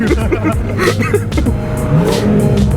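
A BMW F30 340i running a Bootmod3 Stage 2 tune accelerates hard, a loud, continuous engine roar rising through the revs from inside the car, with some faint voices beneath it.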